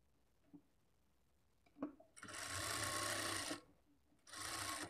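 A sewing machine stitches blouse lining in two sustained runs separated by a short pause, loud and close, with a few faint handling clicks before the first run.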